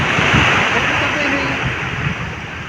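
Sea waves wash and roar as a steady, loud broadband rush, with low surges rising and falling beneath it; some wind buffets the microphone, and faint voices may sit under the surf.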